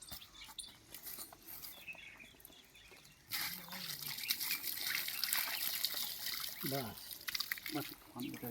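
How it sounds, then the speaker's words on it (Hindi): Water pours and splashes onto the soil around a newly planted tree outdoors, a loud, steady gush starting partway through, with people talking over it. "पानी डाल"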